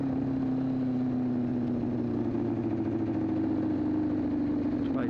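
A small engine runs steadily at quarter throttle with a sustained droning hum, its carburetor set up poorly so it backfires; the tone holds even and close throughout, with no talk.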